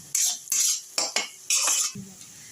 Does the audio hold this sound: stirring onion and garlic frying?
yes